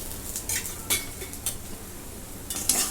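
Gram flour pithla being stirred and sautéed in oil in a pan, a spoon scraping and clinking against the metal at a slow irregular pace over a soft, steady sizzle.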